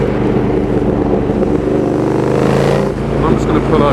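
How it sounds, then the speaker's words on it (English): A KTM 1290 Super Duke R, a 1300cc twin-cylinder motorcycle with a loud aftermarket exhaust, rumbling steadily at close range with a deep throbbing drone that dips briefly then swells again, while a rider talks over it. "this is a Super Duke 1290R, which is a 1300cc twin"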